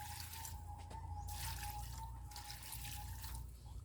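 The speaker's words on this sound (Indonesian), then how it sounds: "Kita siram air secukupnya." Water pours onto the soil of a potted Barangan banana plant, a steady continuous splashing flow that runs alone with brief pauses.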